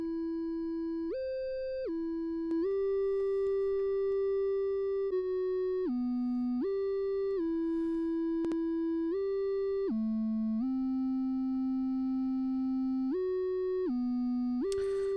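A clean synthesizer playing a simple stepped melody of held sine-like notes with a gentle compressed evenness, alone and moderately quiet.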